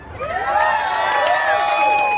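An audience cheers for a woman who helped out, a sustained crowd roar with whoops and shouts rising after a brief start and holding loud throughout.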